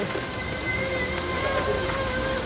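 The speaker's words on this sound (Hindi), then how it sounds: "मदीना मुनव्वरा में बारिश हो रही है।" Steady rain falls in Madina, a constant dense wash of noise with faint tonal hums running beneath it, even and unbroken throughout.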